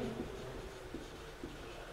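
A pen writes a number on paper, giving a soft, continuous scratching that lasts a couple of seconds at close range.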